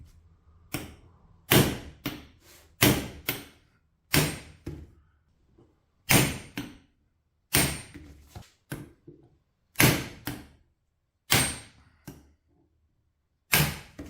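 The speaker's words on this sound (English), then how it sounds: "I'm going to attempt to knock this spindle out with just a hammer." Sharp metal-on-metal hammer blows strike again and again at irregular intervals, knocking the spindle out of a 2-speed mini lathe, each ringing briefly before fading.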